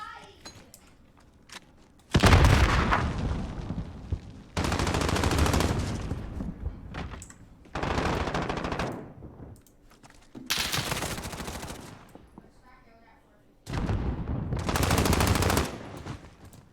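Gunfire in a competitive video game esports match: several loud bursts of rapid automatic fire separated by quieter gaps, while a commentator talks throughout.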